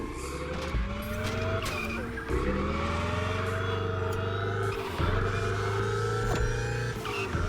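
Electric car in The Crew Motorfest doing a gymkhana wall ride: a loud, close whine of motor and drive with sustained tire squeal, rising and dipping in pitch through several sharp shifts.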